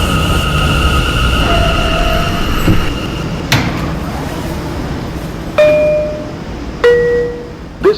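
An E subway train at a station, with steady rumbling hum, sustained tonal whines and several sharp clanks and screeches of wheels and brakes toward the end, loud and close.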